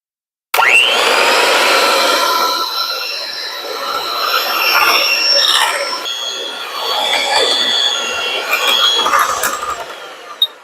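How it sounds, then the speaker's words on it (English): An electric mixer beats strawberry cheesecake filling after the strawberry puree goes in. Its loud, steady whirring runs for about ten seconds, shifting in pitch as the beaters move through the batter, with no talk over it. "Now we've just got to beat it one final time after adding the puree."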